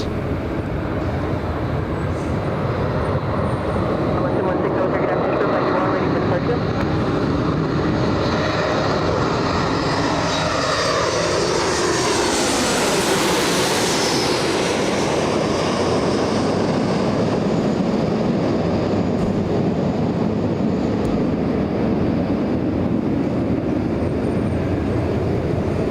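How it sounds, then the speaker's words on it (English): A United Airlines Boeing 737 MAX 9 airliner landing at Los Angeles International Airport, inbound from Houston, gives a loud continuous roar that rises and sweeps past overhead mid-clip, then settles into a steady rumble. "Josh, we have one MAX 9 aircraft landing in just a few seconds."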